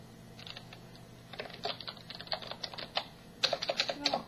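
Fast, irregular clicking of computer keyboard keys being typed on, close and fairly quiet, the keystrokes growing denser and louder toward the end, with no talk.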